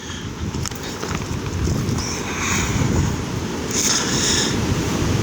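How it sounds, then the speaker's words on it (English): Strong wind howls and roars through a mountain forest during a high windstorm in the Smokies, a steady loud rushing with buffeting gusts against the microphone that build toward the end, with no talking. "You can hear that wind howling, guys, right now."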